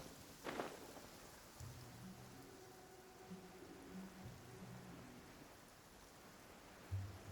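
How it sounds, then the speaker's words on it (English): Steady rain hiss fills a scene in the video game Genshin Impact, with a soft low rumble and a few brief thuds; no one speaks. "Oh, it is raining."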